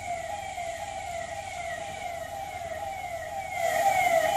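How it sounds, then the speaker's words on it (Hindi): A fire engine siren wails steadily with a rising and falling tone at a municipal garbage truck fire on a road in Kanpur. It holds at moderate loudness and swells slightly near the end over a low traffic rumble. "मौके पर दमकल की गाड़ियां पहुंची और आग पर काबू पाया गया।"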